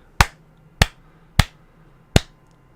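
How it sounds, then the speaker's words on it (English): Four single, sharp hand claps spaced at roughly even intervals, each loud and close with a quick decay, heard alone against a quiet indoor background while testing audio lag. "Clap my hands so you can see."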